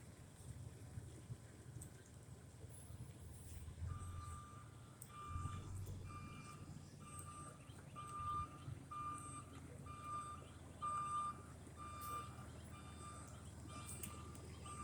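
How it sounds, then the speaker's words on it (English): Tow truck reversing outdoors on a street, with a repeated series of evenly spaced backup beeps at moderate distance over low engine rumble and wind noise. "It looks like we got the tow truck here."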